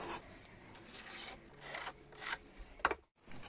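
Pencil or marker rubbing along a wooden board to scribe a line, quiet scratchy strokes in a few short bursts with a sharp tap near the end, no talking.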